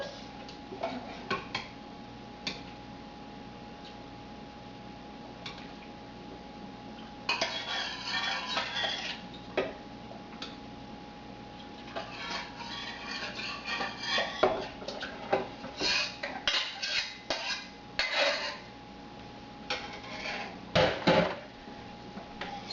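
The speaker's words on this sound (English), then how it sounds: "take this tomato mixture and just combine it with the dal" A spoon clinks and scrapes in a pot as tomato mixture is stirred into lentil dal, irregular bursts of metallic stirring and clanks with quiet pauses between.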